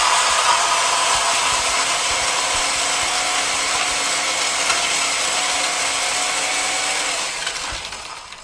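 An electric blender crushes ice for a cocktail with a loud, steady whirring roar close by that holds for several seconds and then tapers off at the end.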